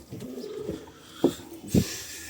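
Pigeons coo softly in a coop, a few low throaty coos close by with faint shuffling and background ambience, no talk.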